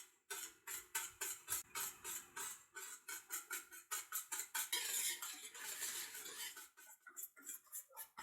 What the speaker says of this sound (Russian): Добавляю 80 мл воды и хорошо перемешиваю